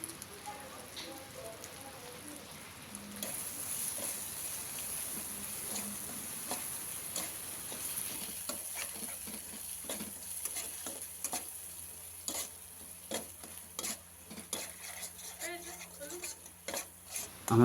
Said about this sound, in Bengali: আমাদের মশলা কষানোটা প্রায় কমপ্লিট হয়েই এসছে